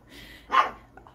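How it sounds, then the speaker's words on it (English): A single short bark from a neighborhood dog, fairly faint and slightly distant, rises briefly out of quiet outdoor background. "all the dogs in the neighborhood are making themselves known"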